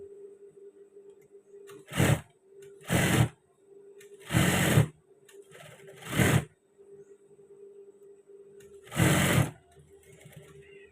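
A sewing machine stitches trousers in several short, loud bursts of rapid stitching separated by pauses, with a steady motor hum in between.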